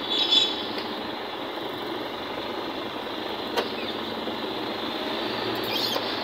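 Road traffic in Iligan City rumbles steadily, with engines idling and trucks droning in a continuous wash of noise and a faint rattle now and then.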